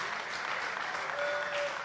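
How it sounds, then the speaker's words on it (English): Scattered crowd applause at a schools rugby knockout match as an injured player is helped off the field, soft and distant, with a faint whistle-like tone near the end. "Applauded off the field."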